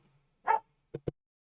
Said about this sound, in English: Damn dog. Go bark somewhere else.